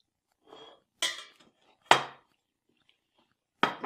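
Utensils knock against a pot while cooked couscous semolina is mixed with cooking water, three sharp separated clunks with softer rustling scrapes between, no talk.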